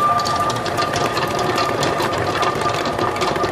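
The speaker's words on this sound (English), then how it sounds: "Then we mix a little bit more again." A stand mixer with a paddle attachment churning butter cookie dough, giving a loud, steady motor whir with a fast rhythmic mechanical clatter, unbroken and close.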